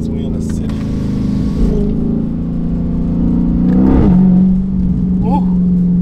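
A 2015 Dodge SRT 392 with an aftermarket intake accelerates hard at night in the city, its engine a loud, deep droning rumble that rises in pitch through the pull, heard from inside the car.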